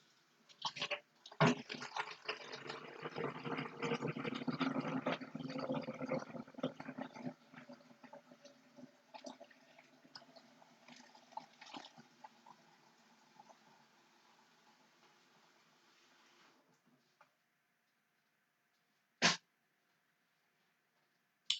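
Water runs from a tap into a container, a steady rushing pour for several seconds that thins and fades away, followed by a few sharp clunks of handling in a quiet room.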